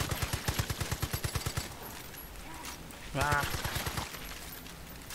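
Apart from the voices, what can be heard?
MP40 gunfire in Far Cry 5 Arcade video game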